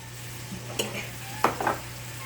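About a tablespoon of butter sizzles softly in a pan with chicken, a faint bubbling hiss over a low hum, with a couple of brief utensil clinks and scrapes and no talking.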